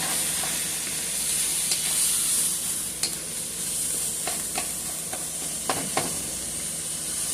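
Food sizzling and frying in a pan for baked spaghetti, a steady hiss throughout with occasional scrapes and clinks of stirring, no talk.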